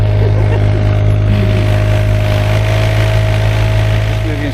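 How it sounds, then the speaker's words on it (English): A lawnmower engine runs loud and close with a constant droning hum and a steady low rumble, while faint voices sit underneath. "there's always a drama with this flaming lawnmower every single day"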